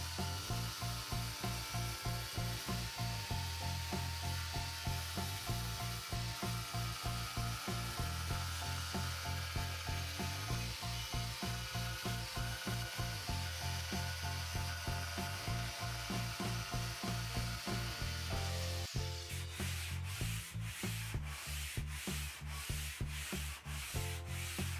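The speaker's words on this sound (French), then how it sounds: "je termine avec un bon coup de papier de verre pour adoucir la courbe" Continuous rhythmic rasping of sandpaper on wood, fast back-and-forth strokes smoothing a curve on a sofa part, close and steady, shifting to a sharper stroke pattern near the end.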